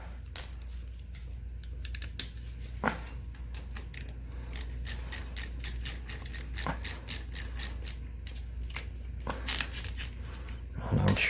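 A ratchet with a 6mm socket works on a hose clamp during a clutch replacement on a Honda CRF250L motorcycle, giving sparse close clicks and light metallic taps over a low background hum.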